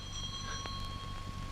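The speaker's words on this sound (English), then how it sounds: "Answer the bell." An electric doorbell rings in a 1940 period drama set in a Victorian London house, a steady, thin tone held for the length of the short moment with faint room noise beneath, no voices.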